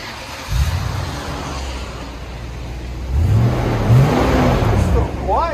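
A 2007 Toyota Land Cruiser V8 fitted with a Borla Touring exhaust idles, then revs in short rising bursts from close range, with a voice talking faintly underneath.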